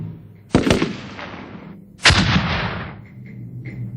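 Two sharp, loud blasts of rifle and cannon fire from a battle between Qing forces and Mongol cavalry near Ulaanbaatar, each followed by a long rolling echo that fades over a second, with faint distant pops trailing after.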